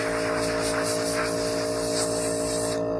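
A continuous, loud airbrush hiss sprays alcohol steadily for a few seconds, then cuts off abruptly near the end.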